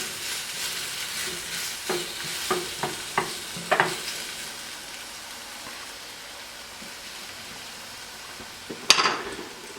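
Ham and onions sizzle quietly in a pan under a soft, steady fry, broken by a series of sharp scraping clicks from stirring and a louder clatter near the end.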